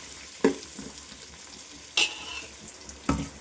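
Cassava and dried fish curry ingredients sautéing in oil, with three sharp spatula scrapes against the pan at regular intervals over a low, steady sizzle.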